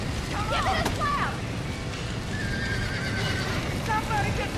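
Trapped horses in the Red Dead Redemption video game neigh and whinny repeatedly, with hooves clip-clopping under a loud, busy bed of noise that sounds like fire and wind, as urgent voices shout over it.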